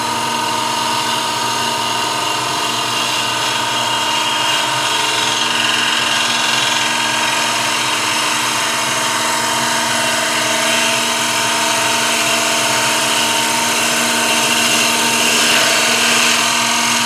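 A wood lathe whirs steadily for a cleanup cut on a wooden platter, its motor hum mixed with a continuous hiss of the tool shaving the spinning wood, loud and unbroken throughout with no talking.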